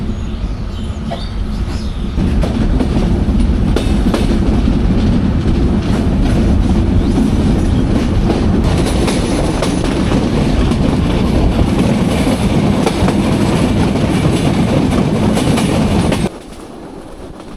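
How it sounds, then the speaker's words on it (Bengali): The Madhumati Express pulls away and runs along the rails: a loud, close, continuous rumble with rail clatter that builds after a short quieter start, then drops off sharply near the end. "অবশেষে প্রায় 15 মিনিটের মতো একটা যাত্রা বিরতি করে আমাদের ট্রেন ছাড়লো"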